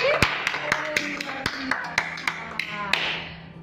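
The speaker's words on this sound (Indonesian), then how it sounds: "Oke, tepuk tangan sekali lagi." Rhythmic hand claps from an online church kids' class, roughly a dozen sharp, evenly spaced claps at close range over a soft background tone, with no group of children audible.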